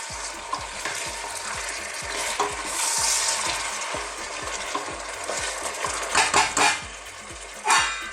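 Chopped tomato goes into a pan of garlic chicken stew, giving a close, steady fry and sizzle with repeated scraping stirs of a utensil against the pan and a few louder clanks near the end.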